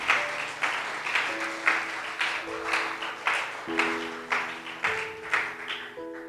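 A church congregation claps in rhythm during a Spanish-language service, with steady beats falling about every half second over soft sustained keyboard or organ tones.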